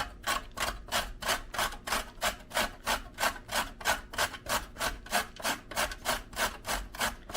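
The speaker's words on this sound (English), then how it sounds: "Here's your cheese grater, okay? You can start grating." A beet is rubbed against a cheese grater in quick, even back-and-forth strokes, each a short rasping scrape, repeating steadily and close up without talk.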